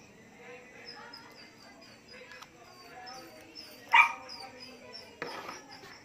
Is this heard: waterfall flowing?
no